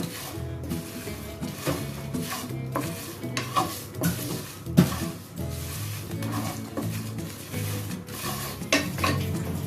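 Spices for kala bhuna being stirred in a hot pan: repeated scraping strokes of a spoon against metal with clinks and knocks over a low sizzle, close and continuous with no talk.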